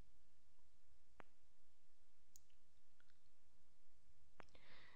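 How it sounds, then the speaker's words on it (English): A computer mouse clicks a submit button, giving two sharp isolated clicks over a faint hissing background, close and quiet. "I go ahead and click the button called submit."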